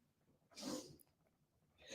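A single sharp sneeze bursts out near the start, a loud close burst of breath, followed by a quieter second breathy burst at the end, heard in a radio studio.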